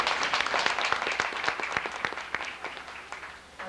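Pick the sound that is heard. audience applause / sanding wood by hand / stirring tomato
audience applause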